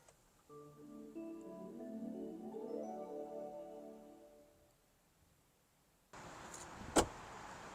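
A Nissan Ariya electric car plays its start-up chime, a soft rising cluster of layered synthetic tones that swells for about four seconds and fades, followed by a steady hiss and a single sharp click.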